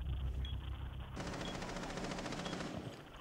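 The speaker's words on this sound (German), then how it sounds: "Die Schüsse kommen jetzt aus dem Osten." Rapid automatic gunfire in the video game Rainbow Six Siege, a dense burst of fast repeated shots that starts partway through and rattles on steadily, loud and close, with no talk over it.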